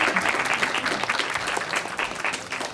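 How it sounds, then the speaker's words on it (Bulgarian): Audience applauding a designer's clothing collection at a Bulgarian event, dense steady clapping from a crowd at close range, sustained throughout with no voices over it. "Аплодисменти за него и за неговата колекция."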